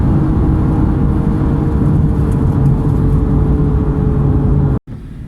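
Porsche engine droning loudly and steadily from inside the moving car, a continuous low rumble with road noise that holds for nearly five seconds, then cuts off abruptly before resuming faintly.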